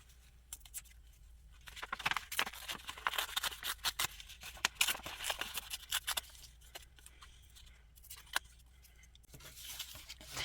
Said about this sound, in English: So I'm going to tear off a bunch of little pieces of just the actual music